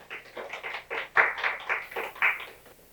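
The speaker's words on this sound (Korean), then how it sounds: "우리 박수로 환영하도록 하겠습니다." At a year-end Sunday church service, a congregation claps to welcome a speaker giving a testimony, with short, fairly regular bursts of clapping swelling and ebbing over a few seconds at moderate volume.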